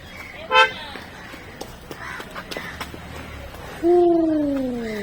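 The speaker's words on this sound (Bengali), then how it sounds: "গাড়ি বেরিয়ে গেল" A car at the Chilika Lake parking area gives a short horn toot early on, then a louder, longer honk near the end, with faint traffic rumble and outdoor ambience between.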